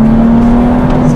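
Engine of a rear-wheel-drive BMW M135i tuned to roughly 700-800 hp, holding a steady loud drone with a strong constant tone, close up on a small country road in the Beaujolais.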